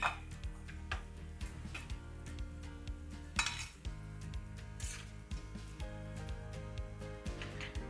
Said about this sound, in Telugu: ఇప్పుడు వీటిని మనం బౌల్లోకి తీసుకోవాలి